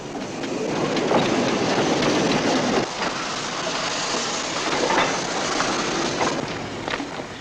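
A steam train rolls along its rails at a 200-acre heritage village setting, a loud continuous rumble and rattle of wheels and carriages with a few rhythmic clacks and slight surges, no talking.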